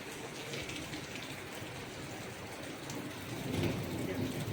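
First monsoon rain of the season falls in a soft, constant hiss, with low thunder rumbling and swelling toward the end, all fairly faint and distant.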